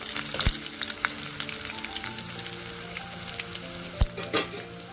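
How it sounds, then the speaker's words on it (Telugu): Dry red chillies, cumin and other seeds fry in hot oil as a tempering for mango dal. A continuous crackling sizzle comes with sharp pops and a few stirring scrapes, close and steady, with no talk. "ఎండుమిర్చి బాగా వేగాలండి."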